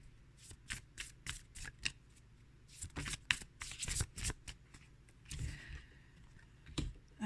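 Oracle cards being shuffled and pulled by hand in a quiet room, a series of close, crisp riffling snaps and slides in uneven bursts, no voices.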